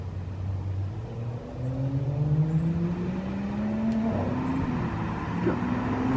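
A car drives off and steadily gains speed, its engine note rising smoothly and holding as a continuous, moderately close whir, with no talking.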